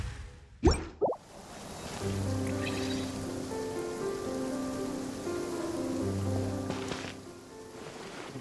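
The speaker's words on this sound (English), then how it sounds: "Why the rain though?" Rain falls steadily in the Genshin Impact video game as a soft hiss under sustained in-game music, after two sharp impact sounds near the start.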